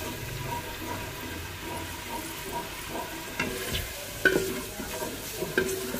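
Onions fry in a pan on a home stove, a steady soft sizzle with occasional stirring clinks, fairly faint and continuous.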